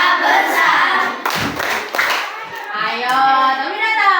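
Children clap in rhythm with a teacher during a clapping song in a classroom lesson, with bursts of claps mixed with kids' and adult voices singing and talking.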